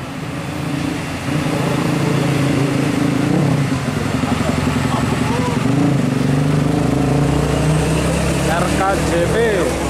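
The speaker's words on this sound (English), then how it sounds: "Dump truck." Heavy diesel dump truck engine rumbling and idling close by, a deep continuous drone with some rising revs, with voices talking over it.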